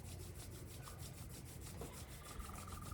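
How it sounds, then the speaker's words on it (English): Palms rubbed briskly together to build warmth, a steady continuous friction hiss that runs unbroken and close for the whole stretch, with no voices. "Start to rub your palms together, creating a little bit of heat between the palms."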